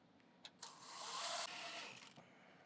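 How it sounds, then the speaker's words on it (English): A Phillips head drill whirs briefly while tightening screws on the pad holder of a Tomcat 270 floor machine, with a couple of short clicks before a steady buzzing run of about a second and then a quick stop. "take your Phillips head drill or Phillips head screwdriver and tighten the screws back down"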